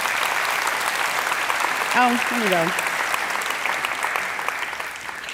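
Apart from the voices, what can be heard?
audience clapping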